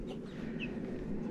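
Soft clucking and peeping from small chickens, close by, over a steady low rumble of background noise.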